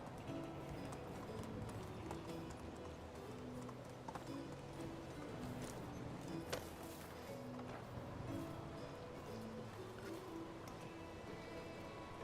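Horse hooves galloping in Medieval Dynasty, a quiet, steady rhythmic clip-clop that continues for the whole stretch, faint and fairly distant, with no talking over it.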